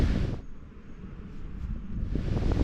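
Strong wind buffets the microphone in loud, low gusts that ease briefly and then swell again, at the village of Eyam in the Peak District as a storm comes in.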